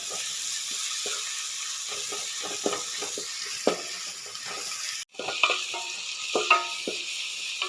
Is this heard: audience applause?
no